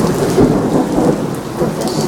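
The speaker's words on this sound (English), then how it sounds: "It's pelting rain. Rain is blowing in at me." Heavy rain pelts down hard in a thunderstorm that is blowing rain in sideways, with a loud, dense, continuous hiss and rumble all through and no talking.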